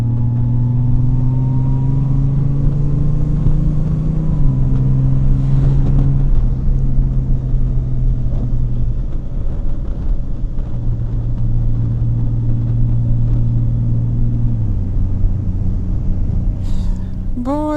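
A 2023 Honda Gold Wing DCT touring motorcycle's loud engine drones steadily while riding, its pitch stepping up and down through gear changes, with wind rush throughout.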